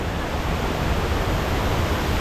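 Kuang Si waterfall in Laos, a steady broadband roar of falling water, loud and continuous with no voices over it.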